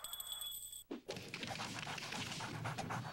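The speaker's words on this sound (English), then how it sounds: "Dumb dog. So predictable." Dog panting in a television commercial for a Philly cheesesteak pizza: steady, close, breathy huffing that starts after a brief pause and continues without speech.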